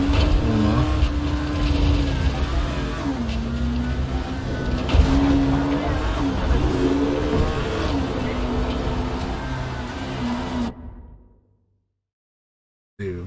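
A car engine drones and shifts pitch as it drives in the video game Dying Light, a steady rumble that cuts off abruptly near the end.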